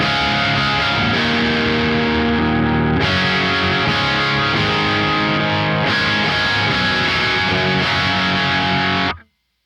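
A thick, distorted electric guitar through a TC Electronic MIMIQ Mini Doubler pedal plays sustained chords, sounding dense and wide like layered tracks, then cuts off abruptly near the end.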